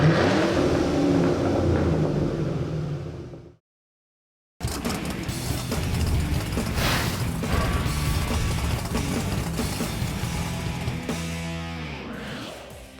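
A modified Ford Mustang GT roars on a dyno, its V8 revving loud and sustained, cutting out for a brief silent gap before building again into a rising, whirring pull that trails off at the end.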